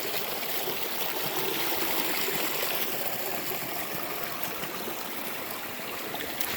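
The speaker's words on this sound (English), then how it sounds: "So that water's moving back and forth." Rain-swollen stream water swirls and rushes steadily in a creek in Missouri, a constant broad wash of flowing water heard alone without speech.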